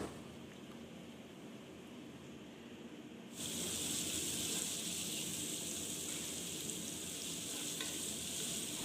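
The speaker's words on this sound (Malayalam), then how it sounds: "ഉള്ളിയും മറ്റു സാധനങ്ങളും വരട്ടി റെഡിയാക്കി എടുക്കാം" Onions sauté in a pan for a Kerala-style beef curry, a faint hiss that suddenly jumps to a louder, steady sizzle partway through, close and continuous with no voices.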